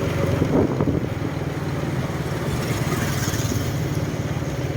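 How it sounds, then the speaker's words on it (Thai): A strong, cold winter-morning wind blows outdoors and buffets the microphone. It makes a continuous loud rumbling roar with no speech, steady for the whole five seconds. "ตอนนี้ลมพัดแรง"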